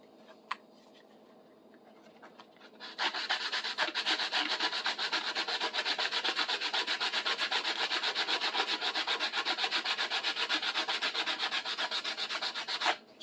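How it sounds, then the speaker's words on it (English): Steady rhythmic rubbing of sandpaper during a tool restoration, starting quietly and then settling into continuous close-up strokes with no talking. "When you get to that point about halfway, you can start doing it with sandpaper"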